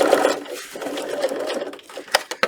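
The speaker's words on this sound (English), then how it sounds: "you keep sewing until it rides off the thicker part" Sewing machine stitching a custom book protector, a steady close mechanical whir that keeps running through thick layered material, with a few sharper clicks and taps near the end.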